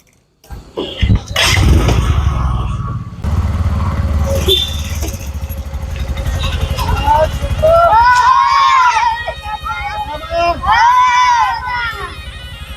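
A motorbike engine idles and revs close by for most of the stretch, a steady low rumble, while a brief whining, warbling tone rises twice over it near the end; voices chatter in the background.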